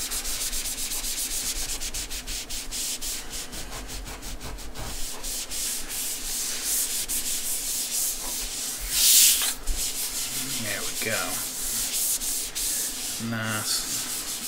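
Oil is rubbed by hand onto the rubber-coated lid of a Lenovo X240 laptop, giving a steady, close, dry scrubbing and rasping that runs throughout, with a few brief squeaks near the end.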